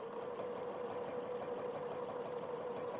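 A sewing machine stitches quilt sashing along a quilt ruler with a steady, even mechanical whir that holds for the whole stretch. The motor hum sits up close and nobody speaks over it.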